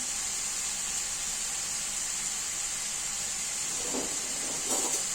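Margarine sizzling in a pan as a sauce base for bohça kebabı, a steady, even hiss running throughout, with a couple of faint soft clinks near the end.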